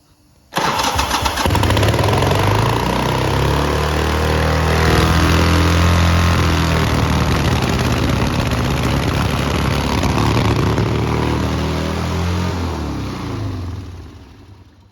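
A 1984 Harley-Davidson Ironhead XLH Sportster 1000cc motorcycle engine kicks to life suddenly and keeps running loud and close with a rough, revving roar that fades slightly at the end.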